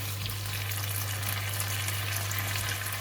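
Kailan stir-frying in a pan after oyster sauce and sugar go in, a steady close sizzle with light stirring scrapes running evenly throughout, no voices.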